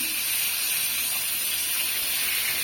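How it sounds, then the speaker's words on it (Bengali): Fish frying in hot spiced oil, a steady loud bright sizzle and hiss with no pause. "মাছটা অবশ্যই মাছটা সুন্দর করে ভাজে নিই"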